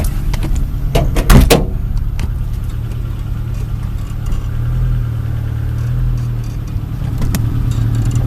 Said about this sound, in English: You can hear my locker clicking.